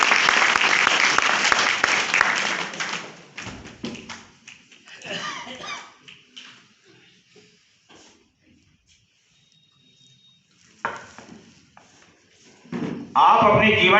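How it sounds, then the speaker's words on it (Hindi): Audience clapping, a dense burst of applause at the start that thins out and fades, with a voice speaking over the quieter stretch and a fresh round of clapping returning at the end. "तब तक ताली बजा सकते हैं।"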